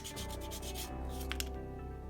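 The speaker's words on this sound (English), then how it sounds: "I'm going to try sanding it, see how well it sands." Air-dry cosplay foam is sanded by hand with close, steady rubbing strokes, a soft continuous abrasive scrape with a couple of sharper scratches near the end.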